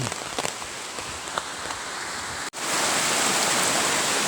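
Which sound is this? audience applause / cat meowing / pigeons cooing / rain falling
rain falling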